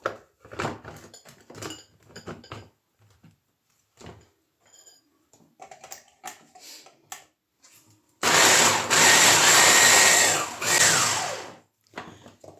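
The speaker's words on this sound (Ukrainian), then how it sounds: "І беремо блендером" Scattered knocks and scraping at first, then a loud, steady whirring blender motor mixes batter with milk in a cup for several seconds before cutting off.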